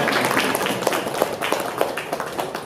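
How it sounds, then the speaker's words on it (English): Audience applause fills an awards gala hall, a dense, steady wash of many hands clapping throughout, fairly loud and continuous with no pause. "Give yourselves a round of applause."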